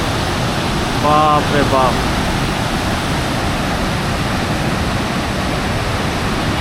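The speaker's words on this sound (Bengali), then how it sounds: "দেখুন কি হারে জল ছাড়ছে, দেখুন ছাড়া হচ্ছে বাঁধ থেকে, দেখুন কি হারে জল আসছে" Water released from a dam barrage roars in a loud, steady, broadband rush that fills the whole scene, with a brief excited voice exclaiming over it.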